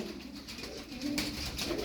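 Ballı and Kula fancy pigeons coo softly in low, murmuring notes against faint background noise, with no speech.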